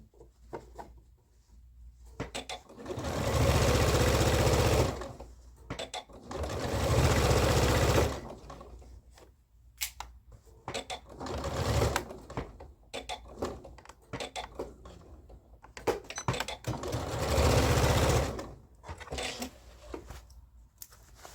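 A sewing machine stitches a pocket seam in several loud, close bursts of rapid whirring, with quiet pauses, fabric handling and small clicks between runs.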